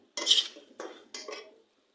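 A metal utensil scrapes and clinks against a cooking pan in three short bursts while spices with turmeric, salt and chili powder are stirred together, fairly quiet and close.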